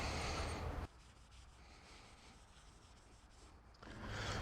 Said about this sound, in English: I'm just gonna use a old t-shirt I cut up to apply the wax.